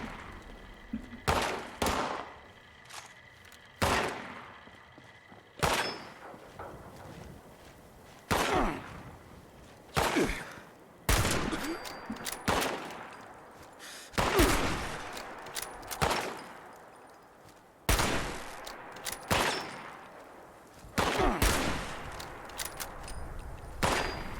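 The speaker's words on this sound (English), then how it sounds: "Who the heck is shooting at me?" Gunfire in the video game Fallout 76, loud bursts of shots and rapid volleys that come every second or two over about twenty-four seconds, with short gaps between the exchanges.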